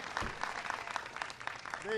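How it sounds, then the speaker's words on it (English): Audience applause for Teresa at a Costco event with Obama promoting a higher minimum wage, a fairly faint clapping crowd mixed with speech, ending in a brief sustained tone. "give Teresa a great big round of applause for the great job she did"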